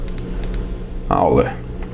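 Computer keyboard typing as a web search is entered: a few light key taps close by, then a short burst of faster keystrokes, with a voice speaking partway through.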